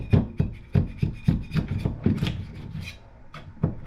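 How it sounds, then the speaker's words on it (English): A scraper pried along the build plate of an Elegoo Saturn 3 Ultra resin printer pops resin prints loose, making a quick series of close, dull scraping knocks and rasps. "take the scraper that comes with the machine, and I'm going to straighten off."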